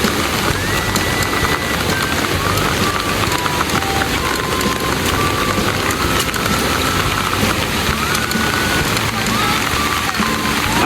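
Heavy rain falling near the Curug Cikawah waterfall, a loud, dense, unbroken patter with a few faint whistling tones drifting through it.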